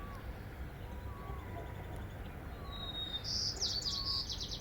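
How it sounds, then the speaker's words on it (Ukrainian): Faint birdsong carries over a low outdoor hum: a few thin distant whistles, then a brighter trilling chirp near the end. "І пташечки співають"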